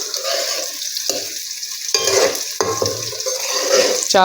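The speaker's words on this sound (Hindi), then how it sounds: "प्याज जो है ना वो हल्का सा ब्राउन अभी हो रहा है।" Onions frying in a pot for matar pulao, browning under a bright continuous sizzle, with several close scraping stirs of a spoon against the pot, no talk.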